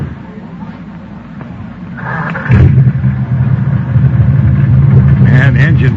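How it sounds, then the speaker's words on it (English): Engine of an old jalopy car idling near a pier, a low steady rumble that swells louder midway and keeps running under people talking. "the engine sounds nice"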